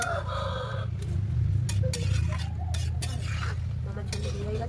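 A fish and vegetable curry with spinach, singi fish, eggplant and potato gets stirred in a pot over the heat, with soft scraping and clinking against a steady low simmering rumble throughout.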